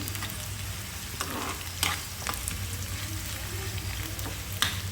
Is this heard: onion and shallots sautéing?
yes